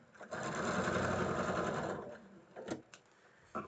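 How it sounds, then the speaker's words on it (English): A sewing machine stitching fabric runs in one steady, close burst for about two seconds, then stops, followed by a few short clicks and handling knocks, with no talking. "so let's stitch this down"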